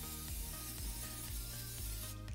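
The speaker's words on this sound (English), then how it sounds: "So, you gotta spray them with cooking oil then." Cooking oil sprays from a can onto onion rings in a kitchen, a close, steady hissing spray lasting a couple of seconds with slight pulses, heard alone without talking.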